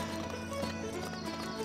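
Horse hooves clip-clop steadily during riding in Lego City Undercover, a continuous rhythmic gait over game music and ambience.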